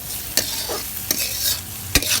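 Onions frying with egg and potato in a pan, a steady loud sizzle broken by a few sharp scrapes of a stirring spoon, alone without talk.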